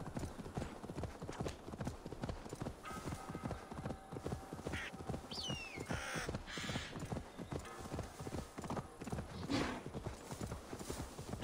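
Galloping hooves of a reindeer-like mount in Assassin's Creed Valhalla, a fast continuous drumming rhythm that runs close and steady throughout, with brief game sound effects on top.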